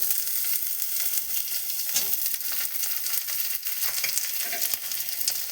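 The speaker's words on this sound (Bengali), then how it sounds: "রসুনটা ভাজা হয়ে গেছে। এবার আমি ক্যাপসিকামটা দিয়ে দিচ্ছি।" Capsicum dropped into a pan of fried garlic for Manchurian, giving a loud, continuous sizzle and hiss with occasional stirring knocks, heard up close with no talking.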